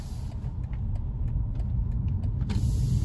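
A BMW 2 Series Gran Coupe M Sport pulls up to speed on a night drive, its engine and road noise forming a steady low rumble that builds slightly, with faint higher whine on top and no talking.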